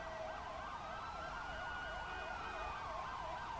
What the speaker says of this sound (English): I'm gonna turn on the sirens